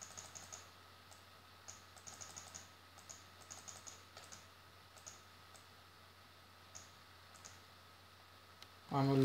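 Computer mouse and keyboard clicks in seismic data software, a sparse series of quiet, sharp ticks spread across a soft background hum, with a louder sound at the very end.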